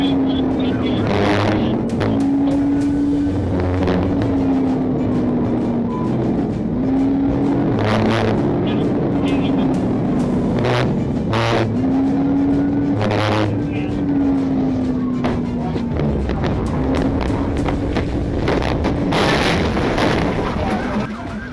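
A police car chase by Georgia State Patrol ends in a PIT maneuver. A loud wailing siren sweeps steadily throughout over roaring engine and road noise, with repeated sharp bangs and impact-like bursts.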